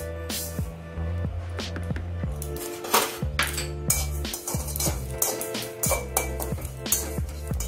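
Cumin seeds dry roasting in a pan for Bengali Pachon, with repeated metallic clinks and scrapes of utensil against pan, close and steady, over a low hum of kitchen noise.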